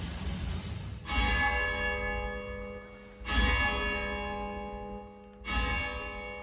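The bell of the thousand-year-old Church of St Pierre de Clages in Switzerland tolls three times at slow, even intervals, each strike ringing out loud and bright and then slowly decaying inside the church.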